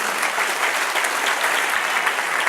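Church congregation applauding during a Spanish-language service, a brief, steady wash of many hands clapping at moderate loudness with no talk over it.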